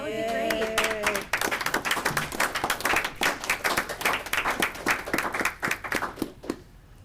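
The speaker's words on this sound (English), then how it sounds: "I'd like to have all our principals stand up and for a quick applause." Brief applause at a school board meeting for the district's principals, a burst of many hands clapping in a medium room that starts after a short moment of other sound and fades out over several seconds.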